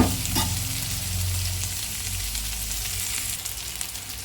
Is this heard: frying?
yes